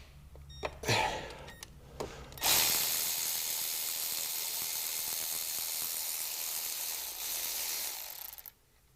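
A ratchet works loose a Torx bolt on the oil filter housing of a BMW N55 engine, giving a few sharp clicks and then a long steady rasping whir that fades out at the end.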